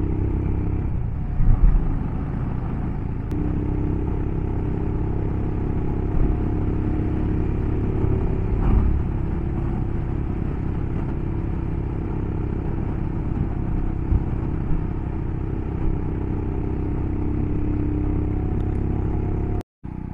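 A Royal Enfield Himalayan motorcycle runs on a mountain road in the Sierra Nevada toward Pico Veleta, giving a continuous loud, rumbling engine and road noise with some clatter and no talk.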